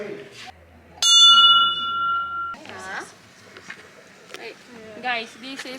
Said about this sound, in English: Ring the bell and someone will attend.